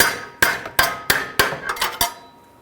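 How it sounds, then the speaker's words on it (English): Six sharp metallic strikes about a third of a second apart, each decaying quickly, as a pry bar against the axle shoulder pops a right front CV axle out of a 2003-2008 Honda Pilot transmission. "we're going to pop this out of our transmission"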